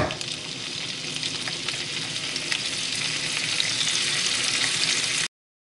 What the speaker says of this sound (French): Ensuite on va jeter nos lardons dedans.